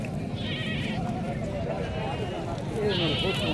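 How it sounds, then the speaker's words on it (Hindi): Small goat bleating at a livestock market, two short wavering cries, one near the start and one near the end, heard under steady chatter from the crowd and people talking close by. "छोटी बकरी है माशाल्लाह"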